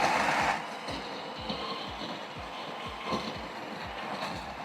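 Burr grinder grinding coffee beans while searching for the right grind size, a steady loud grinding with rapid repeated clattering pulses throughout, heard alone.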